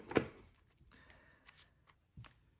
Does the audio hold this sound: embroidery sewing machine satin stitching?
no